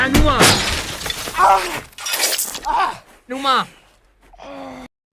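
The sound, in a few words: glass shattering as airplane window is kicked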